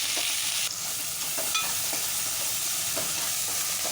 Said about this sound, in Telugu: ఆనియన్స్ ఫ్రై అవుతూ ఉన్నాయండి.